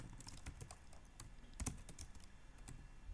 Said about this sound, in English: so maybe I will just type that again.